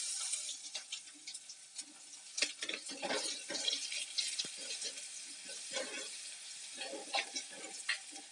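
Crushed garlic frying in oil in a pan for a garlic pumpkin masala dish, giving a steady crackling sizzle with bursts of spattering and occasional stirring, close and fairly quiet, with no talking.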